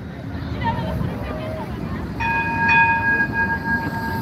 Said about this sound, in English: the trams are busy tonight